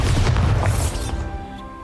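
The Bombarda explosion spell goes off in Hogwarts Legacy on Nintendo Switch, a single heavy close boom with a rumbling burst that decays quickly into a ringing tail.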